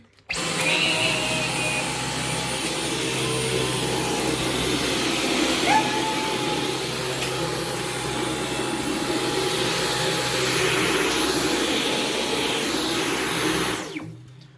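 Vintage Hoover vacuum cleaner with its brush bar running on carpet, a steady droning whir with a low rumble that holds for several seconds, then cuts off near the end.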